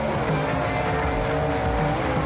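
Gasser drag race cars roar at Knoxville Dragway, a loud, steady engine drone filling the whole stretch with a faint tire squeal edge, no voices over it.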